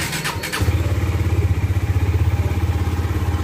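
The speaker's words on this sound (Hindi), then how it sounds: "करते हैं बाइक को कोल्ड स्टार्ट, इंजन को थोड़ा गर्म करना ज़रूरी है।" A KTM Duke 250 motorcycle engine cranks briefly on a cold start and fires up, settling into a loud, steady, throbbing idle close by.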